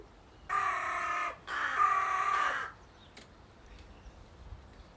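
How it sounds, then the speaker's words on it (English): Two loud, harsh crow caws ring out in quick succession, then fade into quiet outdoor background. "those crows need to wind it in a bit"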